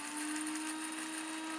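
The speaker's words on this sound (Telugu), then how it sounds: "చూడండి ఇలా కచ్చాపచ్చా మిక్సీ పట్టుకోవాలండి" A kitchen mixie grinder coarsely grinding chutney runs as a steady, loud motor whine, continuous and unbroken from start to finish with no voices over it.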